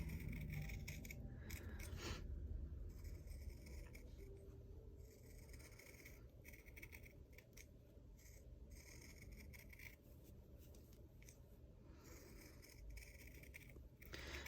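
Scissors snip through Pellon fabric in a steady series of short, crisp cuts, faint and close, with light rustling of the material between snips and no speech.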